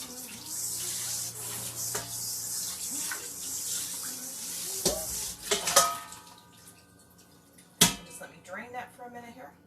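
A bowl being rinsed under a running kitchen tap, with a steady stream of water, then a few clinks and knocks against the sink as it is handled, and talk heard in places.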